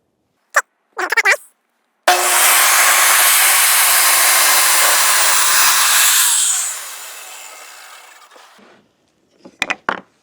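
A table saw with a crosscut sled cuts through a board, starting with a few sharp knocks, then a loud, steady whining rip of several seconds that fades as the blade spins down, followed by brief clatters.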